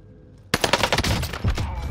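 An H4 Blixen submachine gun fires a rapid, loud burst of shots in the Rebirth Island game mode after a short quiet moment, sustained for over a second.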